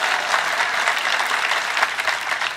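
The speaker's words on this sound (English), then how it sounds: "You want to clap?" A panel crowd at Nerd HQ gives a steady, dense round of applause that stays even and continuous throughout.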